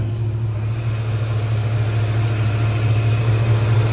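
A 1955 Chevy fitted with a modern LS engine idles with its hood open, a loud, close, steady low rumble holding an even, unbroken note throughout.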